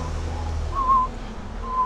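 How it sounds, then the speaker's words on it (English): A person whistles a few short tonal notes over a low background rumble on a Los Angeles street walk, fairly close and faint, with no talking. "I just got it for whistling that in tune."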